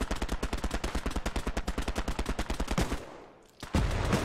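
A machine gun in the World War II shooter Hell Let Loose fires a long, fast, evenly spaced burst of loud close shots, then stops abruptly, with a short lull before another sharp report.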